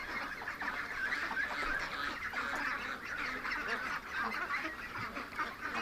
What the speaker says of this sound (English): The geese and the young ducks are on this side